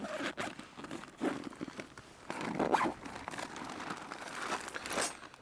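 A bag holding wind catcher parts is unzipped up close, its zipper rasping in several short pulls, with crinkling and rustling of the bag material in between.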